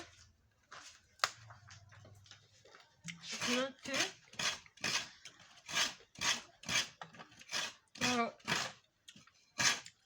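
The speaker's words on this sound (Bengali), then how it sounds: "এই যে নারকেলটা কুড়িয়ে নিচ্ছি" Coconut flesh being scraped out by hand: a regular series of sharp rasping strokes, close and fairly loud, with a voice faintly underneath in places.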